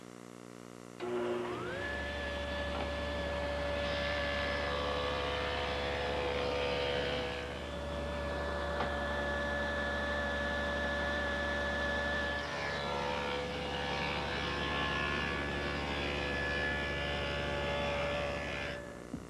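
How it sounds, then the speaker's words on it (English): Table saw fitted with a dado head cutter making a pass through an oak tongue for an oak coffee table breadboard end: a loud, steady motor whine with a sustained cutting drone lasting nearly the whole stretch, with no talk. "I'll make the first pass, move the fence slightly, then make the second pass."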